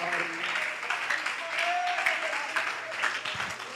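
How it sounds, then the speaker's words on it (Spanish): Congregation clapping during a Spanish-language church sermon, a sustained wash of applause with a voice carrying over it and some tonal music or sustained notes underneath. "¿Alguien lo puede aplaudir en esta noche?"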